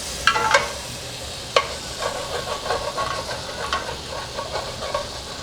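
Butter and chicken juices sizzle and cook down in a pan, a steady close frying hiss broken by a few sharp stirring scrapes.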